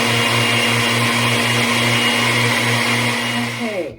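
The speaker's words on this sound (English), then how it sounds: "run that blender for a few more" A kitchen blender runs steadily, grinding beet root powder with a loud continuous motor whine and whirring, then spins down and stops at the very end with no talking.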